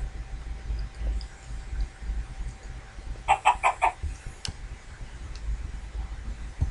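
Chickens in a Minecraft game give a short burst of clucking midway through, moderately loud over a low background hum and otherwise quiet stretches.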